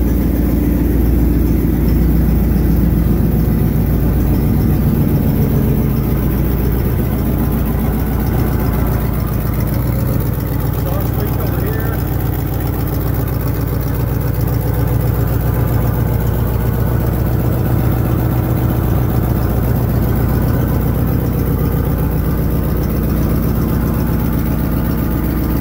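A 1959 Cadillac engine idles steadily after a cold start, a loud, even, low rumble close by that holds constant throughout with no talk.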